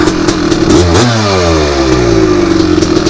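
A 250R off-road engine being warmed up after jetting and gearing changes snaps into one loud, close rev, its pitch sweeping up then sliding back down to a rough, steady high idle.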